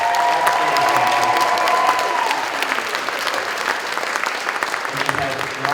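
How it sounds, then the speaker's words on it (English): Audience applause fills a school instrumental music concert hall after a trumpet solo, steady dense clapping from many hands, with a brief voice over it early on. "applause for our trumpet soloist, Frank."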